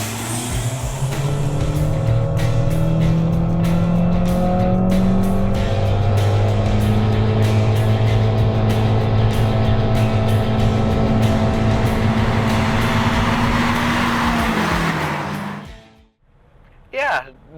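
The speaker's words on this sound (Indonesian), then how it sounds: "Kami coba langsung drag race dengan rival terberatnya yaitu Toyota Grand New Veloz yang memiliki transmisi konvensional 4 speed." A Honda Mobilio CVT drag racing a Toyota Grand New Veloz with a four-speed conventional transmission, loud close engines droning and rising in pitch together for most of the run before cutting off sharply near the end, with voices over them.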